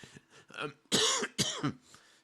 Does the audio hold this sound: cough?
yes